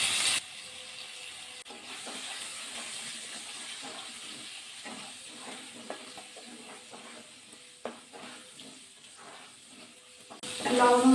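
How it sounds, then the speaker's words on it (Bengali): Potatoes fry in hot mustard oil in a kadai, a steady soft sizzle with occasional stirring scrapes and clinks, fairly close and moderately quiet, with no talking. "প্রথমে আলুগুলো ভাজা করে নেব।"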